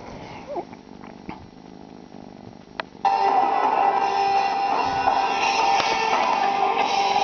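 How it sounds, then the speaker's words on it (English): A cat purring steadily and close by from about the three-second mark, a continuous rumbling purr that stays loud to the end after a quieter stretch with faint rustles and clicks. "Hello, little kitty cat."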